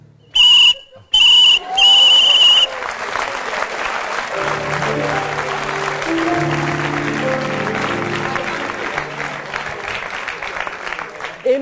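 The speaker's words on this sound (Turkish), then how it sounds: "düdüğe üflemek zorundaydım" Three short, shrill whistle blasts on a TV comedy show, loud and close, followed by sustained audience applause and cheering.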